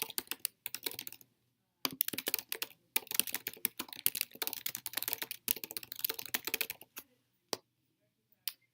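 Bursts of rapid typing on a computer keyboard entering a word, close and crisp, with short pauses between runs of keystrokes and a few isolated taps near the end.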